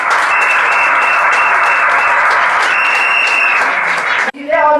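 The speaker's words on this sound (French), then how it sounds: "Et on peut applaudir tous les deux." Wedding guests at a religious marriage ceremony applaud loudly and steadily for several seconds, then the clapping cuts off abruptly as a voice begins speaking.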